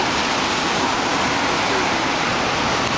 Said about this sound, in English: We are in a cave at the beach.